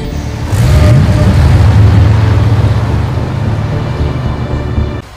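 A Mercedes car engine drives off, a loud low rumble that swells as it pulls away and holds steady before cutting out, with no talk.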